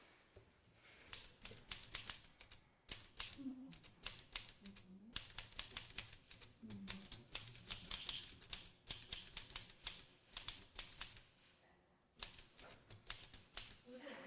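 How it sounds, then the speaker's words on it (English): A loud mechanical typewriter clacks through irregular bursts of keystrokes, each strike sharp and close, with brief pauses between runs and some quiet talk in the background. "This is such a loud typewriter."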